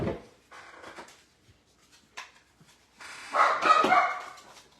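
A pet dog named Timbit barks indoors a few times, short sharp yips and bow-wows spaced apart, the loudest burst near the end, from a little distance in a quiet room.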